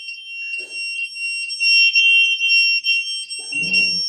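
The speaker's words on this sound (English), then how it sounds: "it's a loud alarm, and so it would scare the person away" A handheld personal safety alarm sounds at close range, a shrill, piercing electronic tone holding high and steady with short breaks and brief speech in the background.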